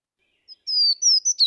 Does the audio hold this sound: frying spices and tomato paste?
no